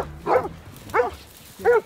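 Hunting dogs barking outdoors, three separate barks spaced at roughly even intervals, moderately close and clear against a quiet background.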